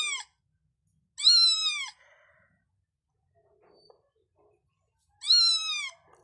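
A small kitten gives three high, thin meows, spaced apart with quiet gaps between them, close by and alone.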